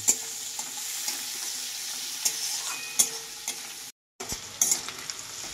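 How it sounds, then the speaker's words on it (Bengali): Chopped onion frying in hot oil for a small-fish and bottle-gourd curry, a bright continuous sizzle with scattered crackles and stirring clatters, briefly dropping out midway before resuming. "একটা কাটা পেঁয়াজ। এটা আমি ভালোভাবে ভাজবো, ওই তেলেই আমি কিন্তু করছি।"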